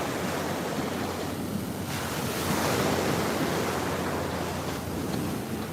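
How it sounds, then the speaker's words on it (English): Ocean surf rolls onto the beach at Galt Ocean Mile in Fort Lauderdale, a steady broad wash of breaking waves with wind buffeting the microphone, swelling slightly midway and continuing without pause. "Beautiful Fort Lauderdale's Galt Ocean Mile."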